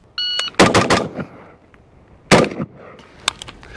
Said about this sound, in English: so 1 extra shot and then a miss on the steel